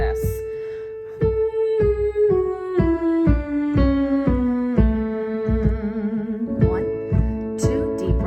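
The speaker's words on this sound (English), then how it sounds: "Octave humming scales." A singer hums octave scales as a vocal warm-up, a clear sustained hum stepping through pitches in a steady descending run of notes, close and alone.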